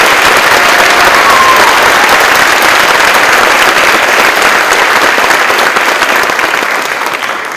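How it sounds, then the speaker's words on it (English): Loud, continuous audience applause at an honors scholarship awards ceremony, a thick unbroken roar of many hands clapping that fades a little toward the end. "Let's have one more round of applause."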